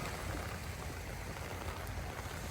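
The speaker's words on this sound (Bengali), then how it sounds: "প্রচণ্ড না, অল্প বৃষ্টি হইতেছে, বৃষ্টি উঠতেছে হালকা হালকা।" Light rain falls steadily outdoors in the Maldives before sunrise, making a continuous soft hiss and patter without breaks. No voices are heard.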